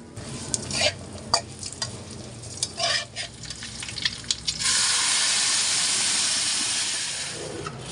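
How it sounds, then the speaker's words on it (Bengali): Duck eggs and onions stirred in a hot pan, first with scraping strokes and light sizzling, then a loud steady frying hiss that gradually fades near the end. "হাঁসের ডিমগুলো আমি পেঁয়াজের সাথে একসাথে ভেজে নেব"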